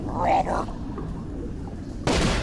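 Gunshot in the horror video game Call of Cthulhu: Dark Corners of the Earth, a single sudden loud blast near the end, following a quieter stretch with some faint background sound.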